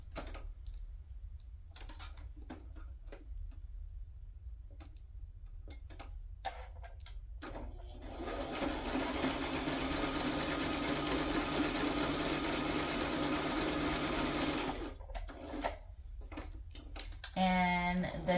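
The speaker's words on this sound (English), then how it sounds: "I am going to sew." A sewing machine stitches paper craft material for a mini glassine album in one steady burst of about seven seconds, close and fairly loud, with light handling clicks and rustles before and after.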